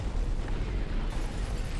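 Explosions from the Fast X movie trailer, a dense, loud rumbling roar with deep booming bursts filling the whole short stretch, no voices over it.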